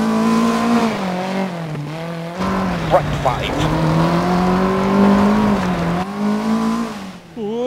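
A rally car with an H-pattern manual gearbox slides along a wet stage in DiRT 4. The engine revs hard and drops through several gear changes, with a co-driver's brief call heard over it.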